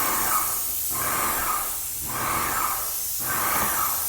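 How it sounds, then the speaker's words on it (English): A paint sprayer hisses out paint in three steady bursts of a little over a second each, separated by short pauses, close and fairly loud, during work on a navy barge being turned into a houseboat. "So I'm gonna stand right here and spray"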